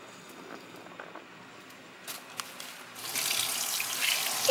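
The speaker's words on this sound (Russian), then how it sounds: "очищенную от внутренности кильку хорошо промыть холодной водой." A cold-water tap starts running as cleaned sprat is rinsed beneath it, the flow quiet at first and then swelling into a steady close hiss over the last second or so.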